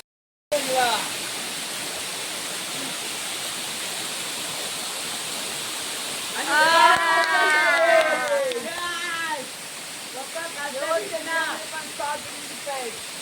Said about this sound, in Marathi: वरती सेम 2 धबधबे आहेत